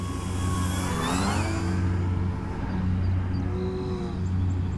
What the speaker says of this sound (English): I can barely hear myself talk here with Tractor Man behind me